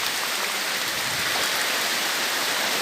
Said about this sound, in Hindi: अभी सुबह से बारिश हो रहा है, पूरा के पूरा बारिश हो रहा है